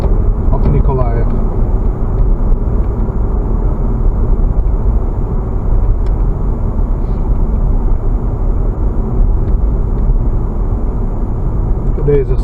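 Taxi car driving from Odessa into a suburb of Mykolaiv on a sunny day, a steady low engine and road rumble continuing throughout with a voice talking over it.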